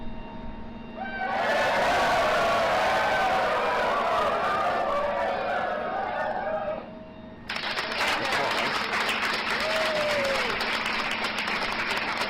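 Applause sound effect played from a soundboard during a live plane-spotting stream at Raleigh-Durham International: a dense, loud burst of clapping that runs for several seconds, then cuts to a brighter, hissier clap track over steady background noise.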